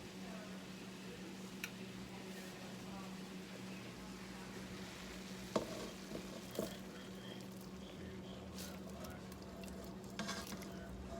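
Deer meat stirred in a pot on the stove gives a steady, low sizzle throughout, with a few sharp clinks and scrapes of the utensil against the pot near the middle and end.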